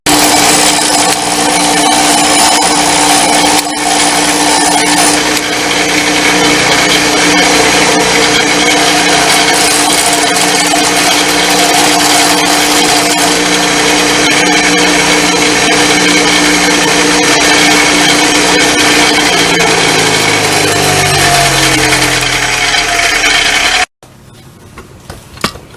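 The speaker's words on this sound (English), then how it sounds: "So we're going to grind off about 2 millimeters and try again." A power grinder grinds steadily on the steel drive gear of a 49cc–80cc bicycle motor, a loud continuous whine that holds for over twenty seconds before winding down and cutting off.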